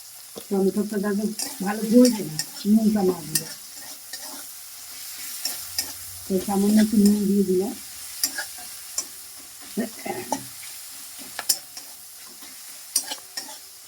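Tomato fries and sizzles in a pan while it is stirred for a Bengali begun paturi dish. Scraping strokes come in two loud bursts over a steady, close frying hiss, and nobody speaks.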